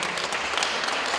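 A brief, dense burst of audience applause at an International Day of Persons with Disabilities event in Krynica-Zdrój, a crowd clapping loudly and evenly for a poem's author.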